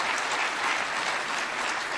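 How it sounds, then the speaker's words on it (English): Conference audience at a South African investment event gives sustained applause, a dense even clapping wash lasting the whole moment without speech. "give them a round of applause again."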